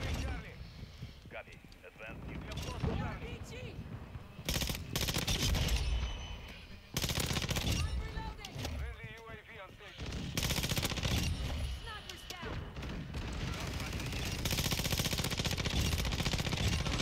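ISO 45 SMG fire in a video game crackles out in repeated rapid automatic bursts separated by short pauses, loud and close, with voices sounding in the background.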